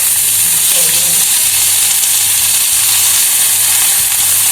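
Mixed sprouts sizzling loudly in hot oil with cumin seeds and asafoetida in a pan, a dense continuous close-up hiss and crackle throughout, with a faint low hum underneath.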